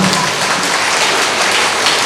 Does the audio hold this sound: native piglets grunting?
no